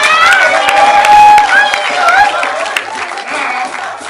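Audience applause at a World Tourism Day celebration welcoming a woman into the Toro family, a loud, steady wash of clapping mixed with crowd voices and cheering.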